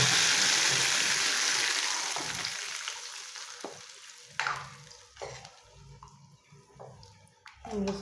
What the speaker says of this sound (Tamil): நான் அடுத்து நம்ம தாளிக்கிறது எப்படின்னு காட்டுறேன்.